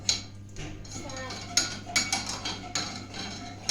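A spoon stirring pudding in a pot on the stove, with irregular clinks and scrapes of metal against the pot over a steady low hum, and a faint voice in the background.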